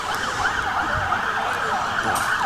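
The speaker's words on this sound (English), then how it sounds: "Sirens are plenty." An emergency siren wails continuously, its pitch sweeping up and down in a regular cycle at moderate loudness against a steady background hum.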